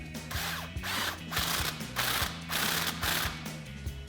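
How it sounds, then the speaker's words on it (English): An 18mm socket on a ratchet with a swivel adapter tightens a bolt on a Jeep Gladiator JT during a coil spacer leveling kit install, giving repeated close clicking ratchet strokes in bursts over a faint background hum. "on the bottom, we'll grab an 18mm socket with a swivel adapter and an 18mm wrench"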